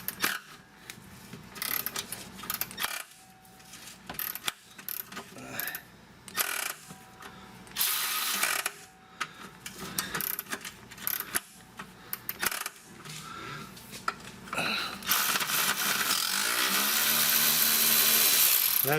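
A ratchet works loose rusted 13mm battery bolts on a 2011 Chrysler 200, giving irregular metallic clicks and clanks in short bursts, quiet at first and growing to a denser rattle near the end.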